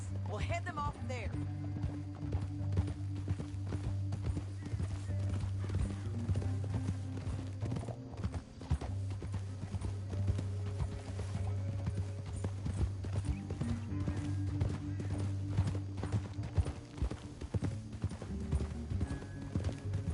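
Horse hooves clip-clop in a steady riding rhythm through the Red Dead Redemption 2 video game, with a brief whinny, under continuous background music and talking voices.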